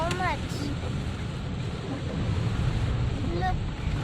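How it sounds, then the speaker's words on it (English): Heavy rain pours steadily during a journey, a dense continuous hiss with wind buffeting the microphone, and brief voices heard over it. "Look, so much rain there is."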